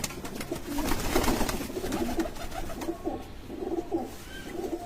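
A female pigeon, a kept bird that had been sitting on eggs, coos in soft repeated throaty pulses close by, with no talking.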